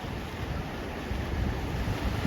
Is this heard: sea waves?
yes